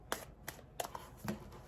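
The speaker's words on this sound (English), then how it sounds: "I'm going to just shuffle the deck." Deck of tarot cards being shuffled by hand, a quick series of crisp riffling bursts and soft taps, close and quiet with no talking.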